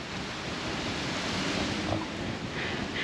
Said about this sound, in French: Et aujourd'hui il y a beaucoup de vent.